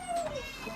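At an animal shelter's cat facility, a single faint, brief meow rises over a quiet room.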